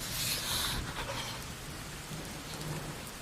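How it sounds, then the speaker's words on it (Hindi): Rain falling on a cold night, a steady soft hiss of drops on surfaces, fairly faint and continuous with a slightly louder burst near the start and no speech. "एक तो इतनी सर्दी, ऊपर से यूं बारिश।"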